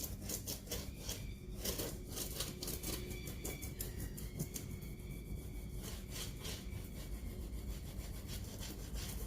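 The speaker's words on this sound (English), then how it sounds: "I just like to give it a good rub all over." Tool rubbed firmly back and forth over a transfer on furniture, giving a faint, continuous scratchy rasping with quick repeated strokes, close and steady, with no one talking.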